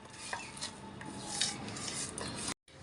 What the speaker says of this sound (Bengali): এদিক দিয়ে আপা আলু ভর্তা করতেছে, আর আমি ডাল বাটতেছি।